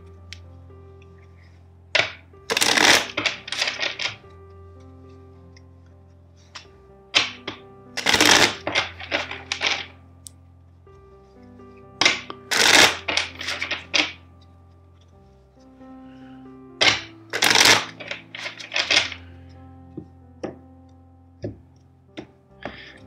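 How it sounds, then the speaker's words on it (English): A deck of tarot cards is shuffled four times, each a brief cluster of crisp riffling clicks separated by pauses, over a soft sustained musical drone. "let's shuffle the deck 4 times"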